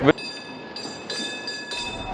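A tram or train rolling along a city street in Kyiv, a steady rumble with faint metallic squeals and rising passes of sound through the clip, heard at moderate distance without talk.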